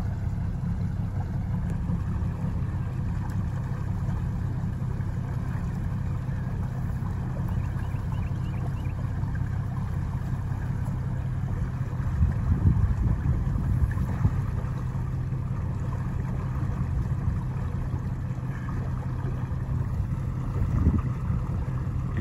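A boat's outboard motor hums steadily at low pitch as the boat slowly turns on the water, with a constant drone and slight wind buffeting throughout.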